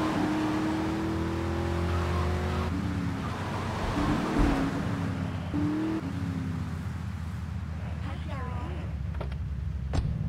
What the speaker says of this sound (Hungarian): Milyen hangja van ennek az autó, ennek a motornak?